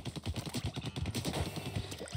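Splattershot ink gun from the Splatoon video game firing in a quick, steady stream of splatty shots, a rapid rhythmic patter of repeated bursts with no talking.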